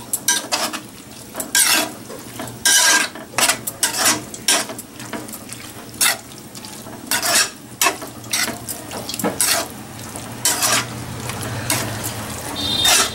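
Gram flour batter is stirred into a curry for poori and chapati, with a spoon rapidly and repeatedly clattering and scraping against the pot over a wet bubbling hiss.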